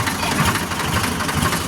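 A farm tractor's engine idles close by in a village, a steady low rhythmic chugging throbbing throughout.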